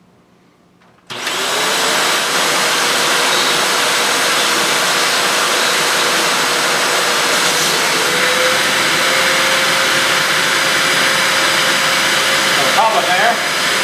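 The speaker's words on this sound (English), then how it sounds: "Whatever it sucks up will be whatever lint it was able to pull out of this system." Vacuum cleaner fitted with a Lint Lizard attachment sucking lint out of a clothes dryer, switching on after a second into a loud steady whine and rush that holds to the end, with a faint knock near the close.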